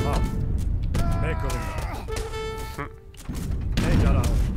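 Cannon fire in Age of Empires III: Asian Dynasties battle, loud repeated booms and thuds layered with clattering combat noise and game music tones, sustained across the whole stretch with a brief lull near the end before rising again.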